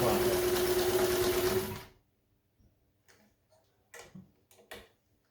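A vintage Kenmore 540 sewing machine stitches in a loud, steady mechanical whir for nearly two seconds, then stops, followed by faint clicks and handling noises.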